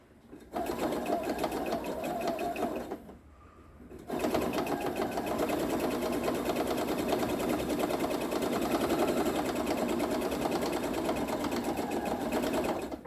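Sewing machine stitching around the edge of a handmade oven mitt, running in long steady bursts close to the microphone, with a brief pause near the three-second mark before the motor resumes at a constant hum.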